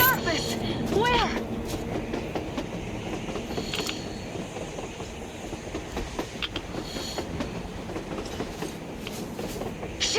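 A train rolls along tracks on the surface in Metro Exodus, with rhythmic clickety-clack of wheels, occasional metallic squeals and rumbling carriages, while voices talk over the passing train.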